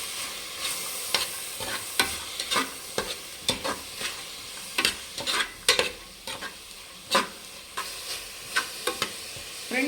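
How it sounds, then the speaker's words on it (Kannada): Green peas frying with fenugreek greens in a pan, a soft steady sizzle broken by repeated scraping stirs of a spatula at irregular intervals, close and fairly quiet. "ಇವಾಗ ಬಟಾಣಿ, ಇದು ಕೂಡ ಚೆನ್ನಾಗಿ ಫ್ರೈ ಮಾಡಬೇಕು ಸೊಪ್ಪಲ್ಲಿ."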